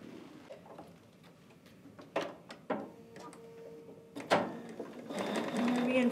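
A sewing machine stitches the boxed corner of a fabric tote bag with a 1/4 inch seam, giving short, quiet bursts of mechanical clicking and whirring that become a steadier run near the end.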